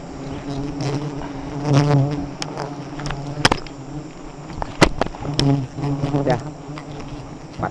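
A swarm of bees or wasps buzzes loudly around a full nest, a dense, steady drone of many wings close by, with brief sharper bursts as individual insects pass near.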